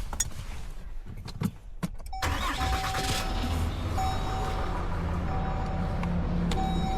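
A U10 Pro Highland side-by-side starts up after a few scattered clicks and knocks, then settles into a steady idle with a faint whine and beeping, close by and without speech.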